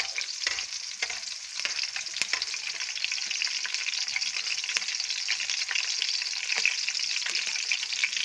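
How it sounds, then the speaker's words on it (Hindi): Mash daal frying in a pan for a charsi-style dish: a steady, moderately quiet crackling sizzle with scattered sharp pops and stirring clicks throughout, and no voices. "अब ये फ्राई हो रही है, इसको हम थोड़ी देर तक फ्राई करते रहेंगे।"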